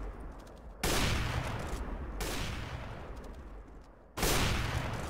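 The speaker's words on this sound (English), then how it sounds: "Ah, the flick shot. I killed Smite" Loud, sustained automatic gunfire in the shooter game CS:GO during a 1v1 arena match, dense bursts that break off briefly and then resume with full force.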